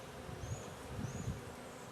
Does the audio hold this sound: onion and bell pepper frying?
no